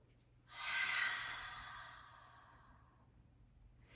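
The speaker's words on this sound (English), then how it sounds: "Normal breathing." A slow, breathy exhale during a 4-7-8 breathing exercise, starting about half a second in, loudest at first and then tapering gradually over a few seconds before a faint new inhale at the end.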